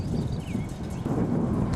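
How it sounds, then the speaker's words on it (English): Steady wind roars and buffets across the whole clip, a broad low rumble with gusty swells, heard outdoors with no voices. "It's windy."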